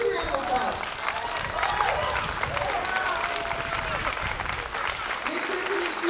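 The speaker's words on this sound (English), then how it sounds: "that's a big round of applause" Steady applause from an audience at a sixth grade band concert, a dense patter of many hands clapping throughout with a few voices and faint cheering mixed in.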